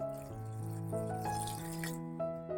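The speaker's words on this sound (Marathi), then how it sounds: "ह्याच्यामध्ये अजून थोडंसं पाणी घालते." Water pours from a vessel into a kokum mixture with a steady, close gurgling run whose pitch slowly rises as the container fills. No voices are heard.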